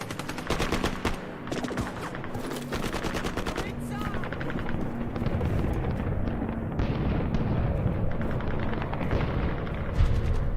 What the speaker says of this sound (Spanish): A los franceses los reciben los disparos del Viet Minh.